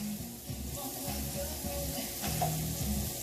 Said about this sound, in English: we get this pan all buttered up with these onions in here